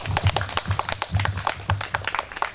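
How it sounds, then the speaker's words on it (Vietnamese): Guests at a Vietnamese engagement ceremony clap in a loose, scattered patter for a few seconds, with sharp irregular hand claps over a low background hum. "Xin cho một tràng pháo tay."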